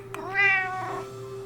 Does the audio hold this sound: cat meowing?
yes